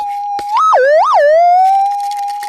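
A loud, sustained electronic metal detector tone over a buried gold target, warbling up and down in pitch a couple of times before settling back to a steady hum.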